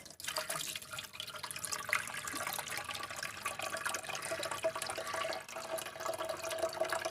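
A tap runs continuously for an aquarium water change, a steady, moderately close rush of flowing water with light splashing and no talk.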